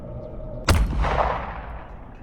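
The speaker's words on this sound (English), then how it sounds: "Sterling's pistol was raised in the air and they shot a bullet to the sky in warning." A single pistol shot fired into the sky cracks sharply and loudly, then rolls away in a long, reverberant echo that fades over about a second and a half.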